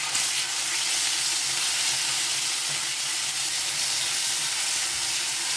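Ginger garlic paste frying in hot oil, a dense, steady, hissing sizzle that stays loud and even throughout with only faint stirring, close up and free of talk.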